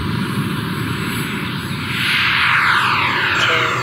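A Freewing Avanti RC electric jet flies past with a loud, steady ducted-fan roar that swells and shifts pitch as it passes close by.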